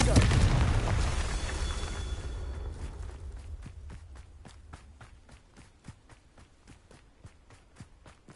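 A Confringo fire-spell blast in the Hogwarts Legacy video game opens with a loud booming burst that slowly fades, followed by a steady run of close footsteps, with speech over it.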